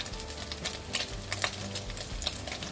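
Fried rice seasoned with mushroom sauce and sugar is stir-fried in a pan at home, giving a soft sizzle under repeated scraping and stirring strokes of a utensil against the pan, fairly quiet and close.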